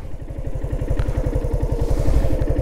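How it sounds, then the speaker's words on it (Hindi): A motorcycle's engine chugs on a rural road on Majuli island in Assam with a steady, rapid, thumping pulse that is fairly close and grows slightly louder toward the end. "एक बाइक उधर से देखो जा रही है"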